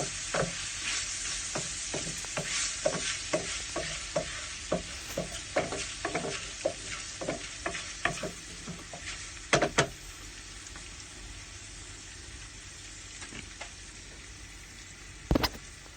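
Minced beef fries in olive oil with a soft, steady sizzle, punctuated by frequent scraping stirs early on and a few sharp utensil knocks later.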